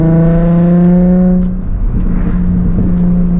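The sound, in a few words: Nissan 350Z revving loudly with backfire exhaust tune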